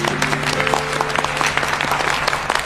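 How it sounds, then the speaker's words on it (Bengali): Loud, dense applause from an audience, steady clapping throughout with a faint sustained musical tone underneath. "একটা জোরে হাততালি।"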